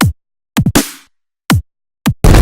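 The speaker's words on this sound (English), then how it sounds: "Some kicks here, some snares there," Punchy electronic kicks and a crisp snare alternate in a sparse beat, loud and close, with a noisy burst cutting in at the end.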